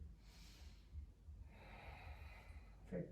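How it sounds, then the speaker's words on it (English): Quiet, close breathing during a yoga session: a soft exhale, then a longer nasal inhale and a brief snort-like breath, with no talking. "Breathing here for 3"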